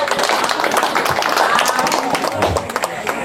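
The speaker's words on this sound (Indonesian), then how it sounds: "Mari kita aplaus." A crowd applauds at a gathering in support of candidate number 3, with dense, steady clapping close by throughout, mixed with cheering voices and chatter.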